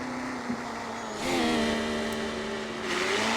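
A BMW M5 in the Car Parking Multiplayer game drives with a steady synthetic engine drone that climbs in pitch partway through, with an airy rush swelling on top, heard alone without talk.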